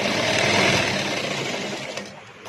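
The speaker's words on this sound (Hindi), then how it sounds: "इस तरीके से मैं इसको ऐसे सिल दूंगी।" A sewing machine runs a seam across a pleat on a salwar, giving a continuous close whirring hum with rapid needle chatter that eases slightly toward the end.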